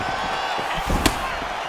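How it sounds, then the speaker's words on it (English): A diving punch lands flush to the head in an EA UFC 6 fight between Amanda Ribas and Jessica Andrade, one sharp thudding impact over steady game background noise. "massive diving punch flush to the head"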